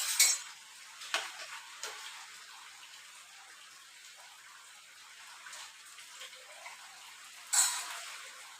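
Oil poured around the edge of an onion dosa on a hot pan, producing a faint, quiet sizzle with brief sharper crackles near the start and again toward the end.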